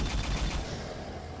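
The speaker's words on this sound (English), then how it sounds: "that is the weirdest machine gun ever" Rapid machine gun fire from a skull-decorated weapon in the video game Shadow Warrior 2, a loud, dense burst of rattling shots that tapers off within a second and a half, with no talk.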